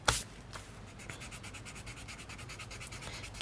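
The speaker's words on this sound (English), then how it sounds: "So I will erase some of these pencil marks" An eraser rubbed back and forth over pencil marks on small journal paper, a quick, rhythmic series of close, dry scrubbing strokes, bracketed by brief louder handling noises.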